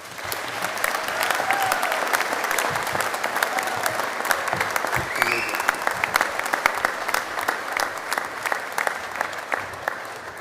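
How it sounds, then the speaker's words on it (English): An audience applauds graduates at a university graduation ceremony, a dense sustained clapping that fills the hall at steady loudness for about ten seconds, with faint voices underneath. "Give them a clap, please."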